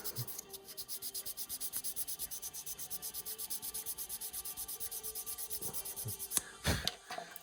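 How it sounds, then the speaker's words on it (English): Quiet, rhythmic rubbing of a sanding stick back and forth over a small plastic part from an Airfix 1/48 Buccaneer model kit, steady strokes close by, ending with a few sharper knocks. "you can give it the once over with a bit of a sanding stick"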